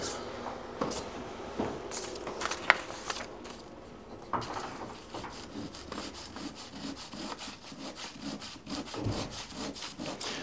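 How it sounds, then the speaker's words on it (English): A Japanese pull saw cuts into wood with steady rhythmic rasping strokes up close, sporadic at first and then settling into a regular back-and-forth pattern. "it's a pull saw"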